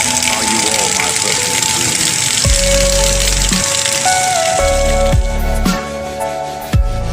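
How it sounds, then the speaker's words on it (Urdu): Steady first rain on a cloudy Friday afternoon makes a continuous loud hiss of falling water with drips and splashes throughout, and a voice speaks over it. "اور ابر رحمت برس رہی ہے۔"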